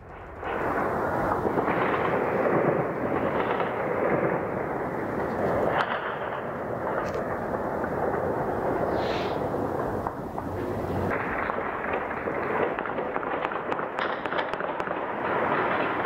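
Celebratory aerial gunfire by Taliban fighters in the streets of Kabul, a continuous dense crackle of distant shots and bursts overlapping for the whole stretch, steady and unbroken.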